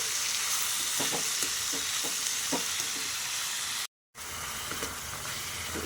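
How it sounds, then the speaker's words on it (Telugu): Spinach frying and stirred in a pan over medium heat, a constant close sizzle broken by soft rhythmic scrapes of the spatula and one brief dropout near the end. "పాలకూర వేసినాక సిమ్లో మీడియంలో పెట్టి 2-3 నిమిషాలు ఇట్లా ఫ్రై చేసుకోవాలండి."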